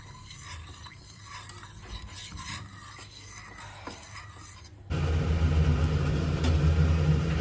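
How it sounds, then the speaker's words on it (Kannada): A spoon stirs and scrapes around a pot of chicken soup in steady rasping strokes, close by, with a louder low rumble joining partway through. "ಈಗ ಇದನ್ನು ಚೆನ್ನಾಗಿ ತಿರುಗಿಸ್ಬೇಕು"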